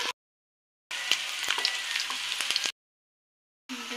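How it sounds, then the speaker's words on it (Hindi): Pieces of chicken tikka sizzle loudly in hot mustard oil, a dense, steady frying hiss that comes in two bursts separated by brief silences, close up with no talking. "मेरा गर्म हो चुका है, अब मैं इसमें टिक्के को डालूंगी"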